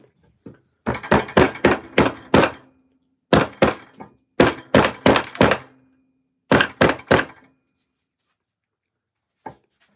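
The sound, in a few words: rubber mallet hammering while making a maple selfbow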